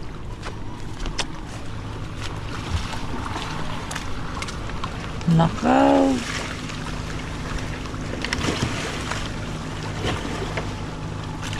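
A boat rocks on the water near shore, with steady water and wind noise throughout and a brief spoken word partway through.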